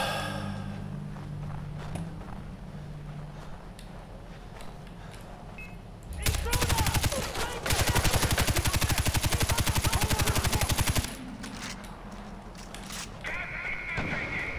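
Gunfire in a Far Cry 4 firefight: a sustained rapid burst of automatic fire, loud and close, running several seconds after a short opening volley, with quieter game sounds before and after.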